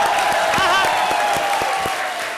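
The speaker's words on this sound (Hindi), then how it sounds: "जोरदार ताली बजाओ भी." A studio audience at a comedy show claps in a sustained burst with some cheering and crowd noise, loud and close, a tonal musical sting running underneath.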